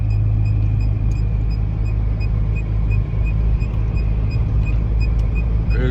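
A car climbs onto the Jaipur–Ajmer expressway in Rajasthan, its steady low engine and road rumble droning continuously from inside the cabin, with no talking.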